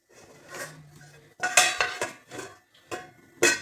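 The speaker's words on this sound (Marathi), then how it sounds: "तर आता झाकण ठेवायचे" A metal lid clatters onto a pan with several distinct clanks and scrapes as it is set down and adjusted, close and loud, after a softer stretch of clinking utensil sounds.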